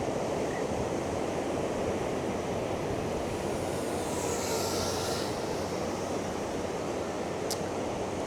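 Motors of a GEPRC Vapor-D6 6-inch GPS drone on its first flight produce a steady, dense broadband roar that holds constant throughout, with a faint high whine above.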